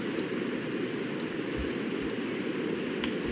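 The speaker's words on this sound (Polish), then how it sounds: "Słyszę, że pada, ale nie widzę, żeby padało." Rain falls steadily in the zombie survival game Project Zomboid, a constant hissing wash with a few soft low thumps, heard alone without any talking.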